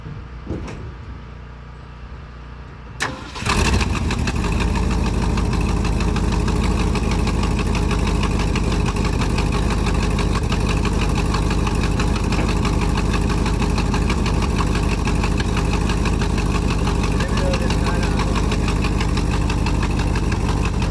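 A 1972 truck engine cranks and catches after a few seconds of low noise, then idles loudly and continuously with a rough, knocking rhythm close to the listener.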